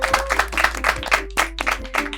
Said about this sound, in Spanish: Fuertes aplausos, por favor.